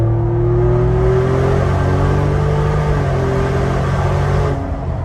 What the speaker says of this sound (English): You can kind of hear the dumped exhaust as well.